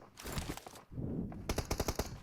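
Rapid automatic gunfire from the PUBG Mobile game, with a dense burst up front, a short lull, then a loud string of distinct close shots crackling in quick succession.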